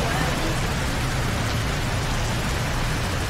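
Steady rain pours down outdoors on an island trip to Samui, a dense, even hiss of water on surfaces with no breaks, close and fairly loud throughout.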